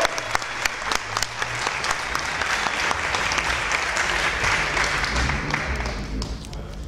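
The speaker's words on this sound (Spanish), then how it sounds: "le damos un nuevo aplauso y bienvenido Ricardo con nosotros." Warm audience applause welcoming a guest speaker at a talk and debate gathering, a dense continuous patter of many hands with some louder near claps, steady throughout before easing at the close.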